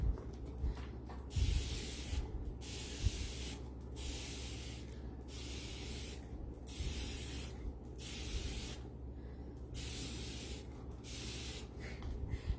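A spray bottle gives a long series of hissing bursts onto a T-shirt, each about a second long, with a rustling hum in the background.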